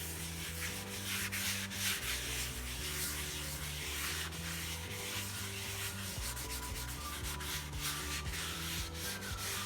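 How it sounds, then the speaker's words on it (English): Canola oil is rubbed by hand into a pitted, previously rusty cast iron skillet, giving a continuous, even scrubbing and swishing over a steady, humming tonal backdrop, with no pauses. "Now we're going to have to put a light coat of the canola oil . And we're going to rub that in."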